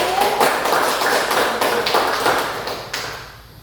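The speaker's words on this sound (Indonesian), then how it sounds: "berikan tepuk tangan untuk kelompok 1" A classroom of students applauds a student discussion group after its presentation, a steady patter of hand claps lasting a few seconds and fading toward the end.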